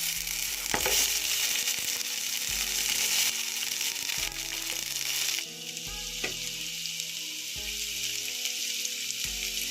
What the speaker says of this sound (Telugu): ఈ ఆనియన్ కలర్ చేంజ్ అయ్యేంత వరకు వేయించుకుందాం.